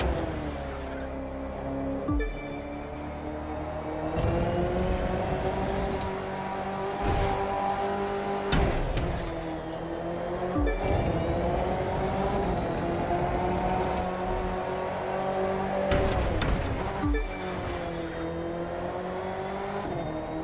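Sustained racing-car engine roar at full throttle in The Crew 2, with a Ford summit event, holding a steady high drone with brief dips at gear shifts and rising revs, loud and continuous without talk.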